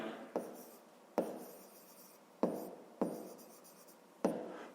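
Pen or pencil writing out a fifth-grade math solution, five sharp taps each trailing into soft scratching strokes, close and quiet, no talk.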